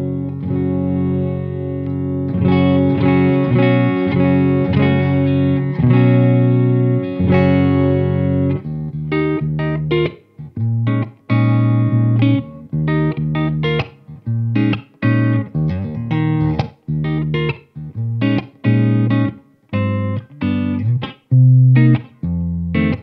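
An Epiphone Adam Jones Les Paul Custom electric guitar plays through an amplifier with effects, sustained chords giving way to choppy, rhythmic strummed and muted notes, loud and close, with no talk.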